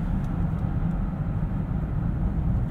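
A 2018 Mazda CX-9 Signature turbo SUV accelerating under throttle at night, heard from inside the cabin as a steady low engine drone with road rumble and no downshifts.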